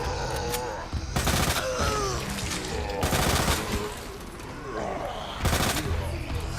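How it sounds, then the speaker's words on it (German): Gunfire at a monster in the video game Resident Evil 2, three loud sharp bursts spaced a couple of seconds apart, with creature groans and game sounds in between. "Schießen wir gleich mal der fette Arsch weg."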